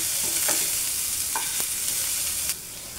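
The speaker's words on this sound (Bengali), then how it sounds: "পেঁয়াজগুলো ভালো করে ভেজে নিতে হবে, ভালো করে লাল করে ভাজতে হবে।" Onions sizzle in a hot pan with a steady frying hiss, broken by a few soft scrapes of stirring, close by with no voices.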